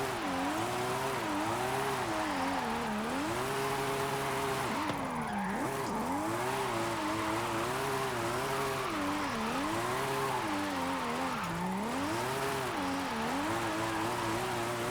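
Car engine in the racing game Forza Horizon 5, a loud continuous high-revving drone whose pitch rises and falls steadily through gear changes and throttle swells, with no gaps.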